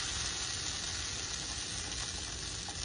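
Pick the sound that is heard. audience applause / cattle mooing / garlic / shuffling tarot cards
garlic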